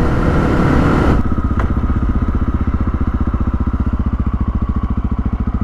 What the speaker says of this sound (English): Bike still seems to be running good.